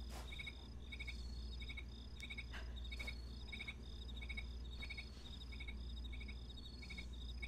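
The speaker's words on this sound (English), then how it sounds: "is that supposed to be crickets?" Crickets chirping in the video game Fragile Dreams, in steady, rhythmic pulses over a low ambient hum, with a few faint clicks and taps scattered throughout.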